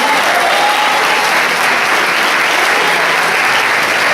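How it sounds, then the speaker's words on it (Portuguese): At a women's congress in a church, the congregation bursts into loud, dense applause, a thick continuous roar of many hands clapping at full strength throughout, with no speech over it. "Aplauda Ele, igreja."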